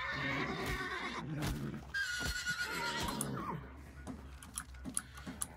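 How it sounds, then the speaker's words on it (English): A horse neighs in the game Hunt: Showdown, a loud whinny with hoof clops in a tense in-game scene, fading into quieter ambience with scattered clicks. "Horse."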